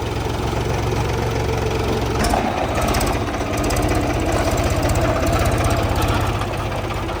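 Eicher 485 tractor diesel engine idling after a service, a loud, steady knocking rumble with a regular rapid beat, close by and continuous, with a slight shift in tone partway through and no talking.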